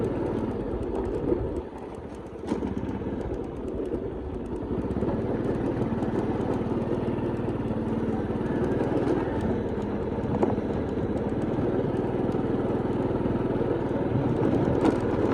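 A motorcycle rides steadily into a village in the hills of Oudomxay province, northern Laos, its engine a continuous close drone lasting the whole stretch with a brief dip early on, and no talk over it.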